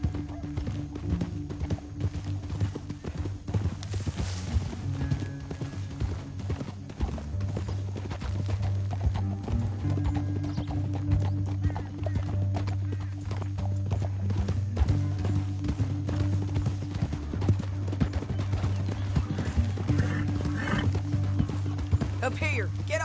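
Horse hooves in Red Dead Redemption 2, a dense continuous clip-clop of several galloping horses over a low rumble, with occasional whinnies and voices talking over the riding.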